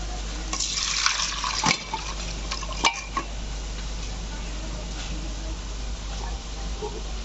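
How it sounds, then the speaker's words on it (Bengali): Duck meat poured into a hot pan: a continuous wet sizzle runs under a low steady hum, with a few clattering knocks and scrapes of the pan along the way. "আমি এবার মাংসটা ঢেলে নিচ্ছি"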